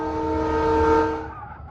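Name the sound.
train horn echoing through a forest, audio story effect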